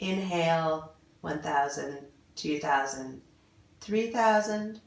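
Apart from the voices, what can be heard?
No everyday noise stands out behind the speech.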